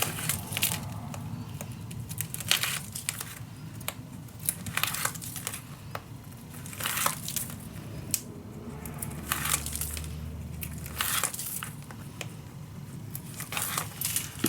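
Backing paper is peeled off and crinkled while making a handmade dog-themed mini album, with repeated papery rustles and tearing strips close by, some louder crackles, no talking.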